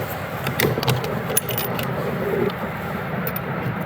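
Clicks from turning the turret of a scope on a Savage Axis rifle in .243 Winchester while sighting in. A few sharp metallic ticks stand out close up against a steady outdoor background hiss, with no talking.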